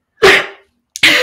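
A person gives two sharp sneezes close to the microphone during a Formula One podcast, with a short bursting blast, a pause of about half a second and a second burst.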